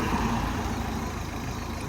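A car engine idles steadily nearby as it is brought up on a hill road, a continuous low rumble with broadband noise and no talking.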